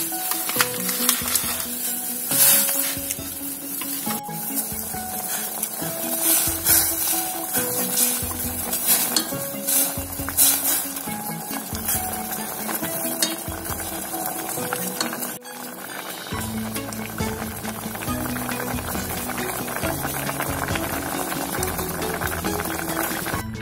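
Instant chicken pho noodles being stirred in a pot of boiling water, with continuous bubbling and sizzle plus repeated scraping and clinking of a utensil against the pot, close and fairly loud.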